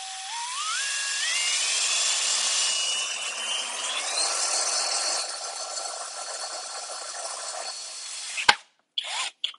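A HOTO 12V brushless drill/driver drives a screw with a close, steady motor whine that climbs in pitch as it spins up and runs for about eight seconds, then stops with a few short clicks.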